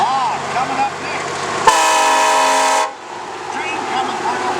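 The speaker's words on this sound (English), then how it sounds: "Train coming through." A loud, steady train-style horn on a parade vehicle blasts for about a second over an outdoor parade crowd and a voice over a loudspeaker, then cuts off.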